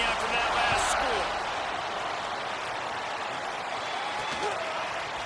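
Crowd noise at a College Football 26 video game stadium makes a dense, steady roar, with faint thumps and swells early on and a commentator's voice talking over it.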